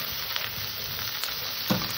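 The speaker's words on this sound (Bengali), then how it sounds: "তরকারিটাকে ভালো করে কষে নিতে হবে, যাতে আদা জিরে কাঁচা গন্ধটা চলে যায়।" Masala with ginger and cumin being sautéed in a pan for a fish curry with potato and green banana, a dense steady sizzle with a few stirring scrapes and one knock near the end, close, no talk.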